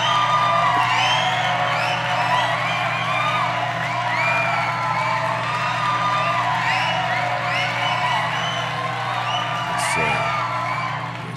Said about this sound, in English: Listen, round of applause for you.